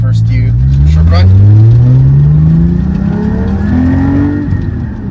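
Porsche 718 GT4 with a Cargraphic X-pipe racing exhaust in loud mode revs up in a steady, rising engine roar with whining harmonics, close and loud throughout, tapering slightly at the end with a voice briefly audible.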